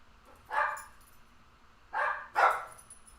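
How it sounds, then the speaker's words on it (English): Dogs bark indoors in three distinct bursts, one single bark followed after a pause by two close together, moderately loud with quiet room tone between. "doggos barking."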